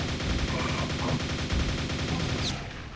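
Rapid gunfire in Quake, likely nailgun and launcher fire against fiends on level E1M3, a dense continuous stream of shots and explosive thumps lasting the whole stretch before tailing off near the end.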